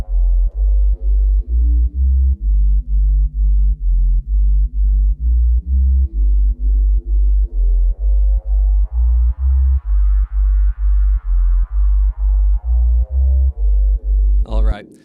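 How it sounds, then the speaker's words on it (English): Overdriven bass line with reverb in Ableton for a steppas track, a repeating pulsing low synth pattern of evenly spaced notes with a rising and falling tonal sweep, loud and alone. "You want to take a bass line, you want to overdrive it, and then you want to reverb it."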